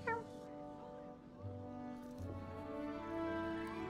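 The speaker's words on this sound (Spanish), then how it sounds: "Ah, mira un gato" A cat meowing in the game Hogwarts Legacy, a short rising meow at the start followed by faint tonal game music and ambience, fairly quiet overall.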